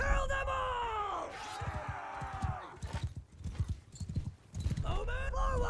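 Cavalry horses galloping in the medieval battle game Mount & Blade II: Bannerlord, with rapid hoof clatter and a neigh amid battle noise, while someone shouts commands over it.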